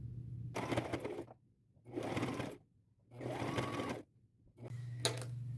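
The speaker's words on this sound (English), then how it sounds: "I'm going to line this little band right over top of the dash marks that I made and sew it all the way across" A sewing machine stitches a fabric band across a tote bag in four steady bursts of whirring, each roughly a second long, with short pauses between them; close and clear, with no talking.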